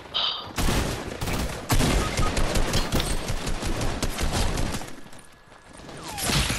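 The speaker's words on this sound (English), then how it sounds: "I'm getting shot at." Video game gunfire crackles in rapid, loud bursts of automatic fire and single shots, dense and continuous for several seconds before a short lull and another burst.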